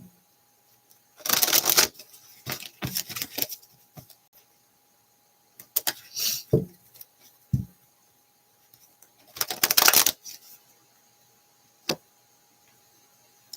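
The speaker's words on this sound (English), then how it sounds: "This card flipped up as I was shuffling." A deck of tarot cards is shuffled nearby in several short, crisp riffling bursts separated by quiet gaps, with a few lighter card taps and flicks between them and no talking.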